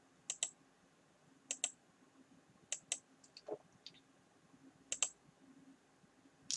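Computer keyboard typing, sparse crisp key clicks arriving in small paired bursts with quiet pauses between, close and clear with no talk.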